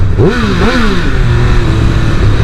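Triumph Speed Triple 1200 RR motorcycle engine revs hard on a city street in Melbourne, rising pitch sweeps climbing and falling twice before settling into a steady loud drone close by.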